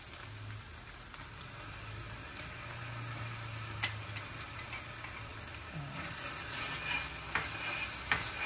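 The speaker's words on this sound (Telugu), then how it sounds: "ఇందులో మనం ఇప్పుడు అల్లం వెల్లుల్లిపాయ పేస్ట్ వేసేద్దాం" Ginger garlic paste added to onions already softening in a pan for a village-style baingan bharta, giving a steady close sizzle with stirring scrapes and a few sharper clinks, no voices.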